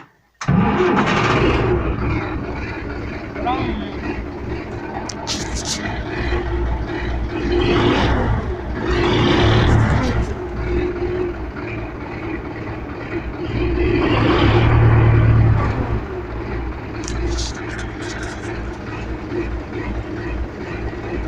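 A UTB 650 tractor, freshly reconditioned, has its engine started and left running: a loud, steady rumble continues throughout, with surges and clatter swelling every few seconds, all without speech.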